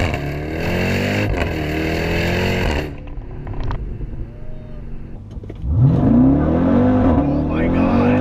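A 2018 Jeep Grand Cherokee Trackhawk launches from a dig without launch control, its engine revving hard and loud, easing off briefly, then surging into a rising, accelerating wail, with voices exclaiming over it.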